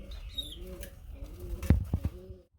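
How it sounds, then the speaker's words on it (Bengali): Cooing from pigeons kept on a farm, a male and a female racer, with soft throaty calls and a brief burst of wing flapping near the end, close and moderately loud. "এটা হচ্ছে নর কবুতর আর এই হচ্ছে মাদি কবুতর"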